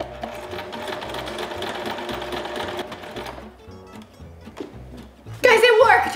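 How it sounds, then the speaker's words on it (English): A sewing machine runs in fast rhythmic bursts of stitching, loud and close, while people talk over it. "So now we're going to sew."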